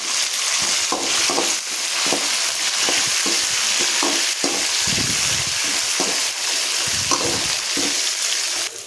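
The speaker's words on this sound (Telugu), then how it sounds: "ఇప్పుడు ఆనియన్స్ ఫ్రై అయిపోయినాయి ఫ్రెండ్స్." Onions frying with mustard seeds, dried red chillies and curry leaves in a pan, making a steady loud sizzle broken by repeated scraping stir strokes, with no talking.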